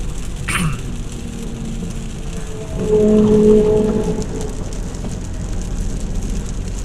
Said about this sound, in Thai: ฝนตก ทั้งวันทั้งคืนนะครับผม